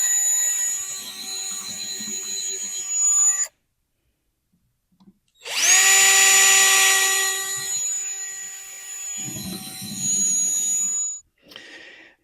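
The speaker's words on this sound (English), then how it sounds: "As long as that drill bit don't hit another screw," A power drill bores into particle wood in two long, loud, whining bursts separated by a silent gap, with a shorter burst after, close up.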